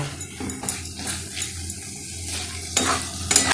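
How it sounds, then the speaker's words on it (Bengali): Mutton liver and fat sizzle in a pan while being stirred, a steady close frying crackle with intermittent scraping stir sounds and brief louder bursts near the end. "এবার আমি দিয়ে দিচ্ছি চর্বি দিয়ে খুব ভালো করে ছ সাত মিনিট কষিয়ে নেব"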